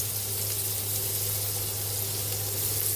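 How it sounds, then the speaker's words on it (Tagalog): Butter and garlic sauté in a hot pan, a continuous dense sizzle with a low steady hum underneath, close and even throughout with no talk. "Nagigisa na po tayo."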